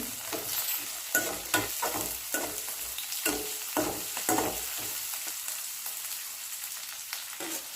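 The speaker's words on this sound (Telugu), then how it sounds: "తాలింపులోనే పచ్చిమిర్చి ఉల్లిపాయలు కూడా వేసుకొని కలుపుకోవాలి" Steady sizzling of a tempering frying in a pan with green chillies and onions, a utensil scraping and stirring in repeated strokes, close and moderately loud.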